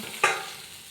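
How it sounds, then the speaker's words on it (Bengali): A fish curry gravy simmering in a pan, with a soft, steady bubbling sizzle and one brief louder burst, close by and without speech. "দেখুন বন্ধুরা, ঝোলটা কেমন ফুটছে"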